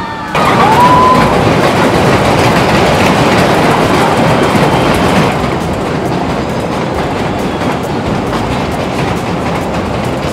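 Rocket Express amusement park train ride at a riverside fair, rumbling and clattering steadily and loud throughout, with a brief rising whistle-like tone near the start and dense background crowd noise.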